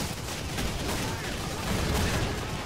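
Dense, continuous gunfire from the modded World War II shooter Call of Duty 2, loud overlapping shots blurring into one rolling barrage.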